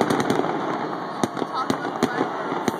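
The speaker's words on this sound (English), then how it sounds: "Fireworks is shiny" Fireworks crackle and pop in a rapid, irregular series of sharp bangs, some nearer and louder than others, over steady background crowd noise and murmured talk.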